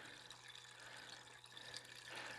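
A 12-volt electric pump drives water through a Silverblade cooling system during a coolant flush, giving a steady, continuous rushing flow with a low hum underneath and no one speaking.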